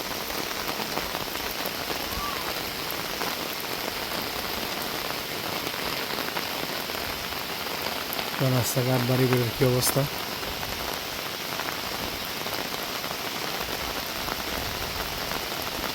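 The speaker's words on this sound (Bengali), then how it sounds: "বৃষ্টির মধ্যে আমি বের হয়ে গেলাম" Monsoon rain pours steadily over a village, a dense, even hiss of drops on surfaces lasting throughout, with someone speaking briefly partway through.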